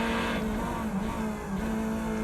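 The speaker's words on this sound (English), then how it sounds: "Hear those tyres screeching" A GT3 race car engine drones steadily in the iRacing video game at Silverstone Circuit while tyres squeal with a sustained, high-pitched whine as the car is pushed hard through a corner.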